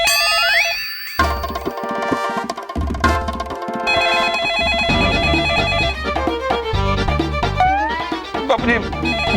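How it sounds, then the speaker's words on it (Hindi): Ringing telephone in a dramatic children's superhero TV show, a bright repeating bell-like ring sounding over a busy musical score, loud and close. "मैं फोन नहीं उठाऊंगा बापू जी"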